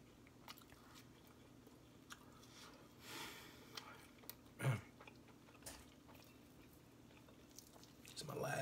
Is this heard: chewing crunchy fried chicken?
yes